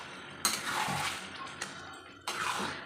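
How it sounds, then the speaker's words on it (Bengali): Mutton coated in ground spices is stirred in a pot, giving three bursts of close, scraping, sizzling strokes of a spoon against the metal, with no voices. "সব কিছু একসাথে দিয়ে আমি ভালো করে নেড়ে নেব"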